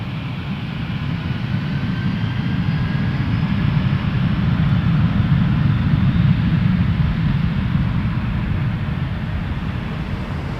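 An airplane takes off from a runway at Toronto Pearson Airport, a steady, heavy, low roar that holds at constant loudness from start to finish, with no voices.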